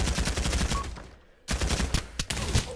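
Machine gun fire in the Pavlov VR shooter plays as dense rapid bursts, loud and close, broken by a brief pause before firing resumes.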